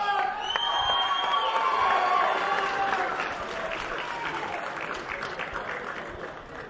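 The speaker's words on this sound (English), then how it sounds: "the crowd giving Claressa some back and forth there" Boxing weigh-in crowd for Claressa Shields vs Savannah Marshall at Fight Night London, loud sustained applause with cheering and shouts that swells early then settles into a steady clapping roar.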